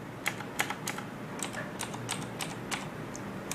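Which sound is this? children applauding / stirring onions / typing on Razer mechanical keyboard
typing on Razer mechanical keyboard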